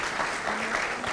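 Applause from a conference closing audience, a brief wash of steady crowd clapping heard at moderate distance with a faint voice underneath.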